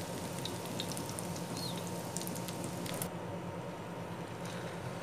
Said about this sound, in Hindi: इसी तरह हम अपने दूसरे सारे कबाब इनको फ्राई करते हैं